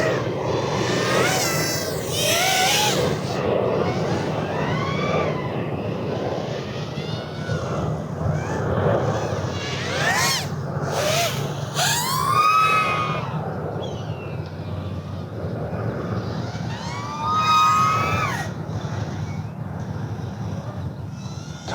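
FPV drone on 2004 brushless motors swapped in for 1805s, run at full throttle: a sustained high whine with rising and falling pitch sweeps as throttle changes, near and loud throughout, no talk.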